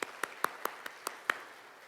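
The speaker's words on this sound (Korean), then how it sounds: "잠깐 일어나시면 우리가 박수로 환영을 드리겠습니다." Sparse, separate hand claps from a church congregation welcoming a pastor, about seven sharp claps at an irregular, slowing rhythm, moderately close in a quiet room.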